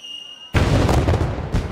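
Fireworks exploding in an anime episode, heard as a sudden loud burst that cuts in after a quiet tonal passage and holds as a dense, rumbling crackle to the end.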